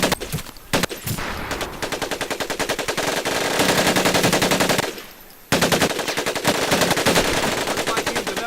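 Thompson submachine gun from Medal of Honor Pacific Assault firing loud, close bursts of rapid automatic shots. There is a brief pause around the middle before the fire resumes, with no talk.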